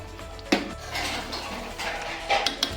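Cooked chicken poured and drained into a metal plate, with a sharp clatter of utensils against metal followed by scraping and lighter clinks, fairly quiet and close.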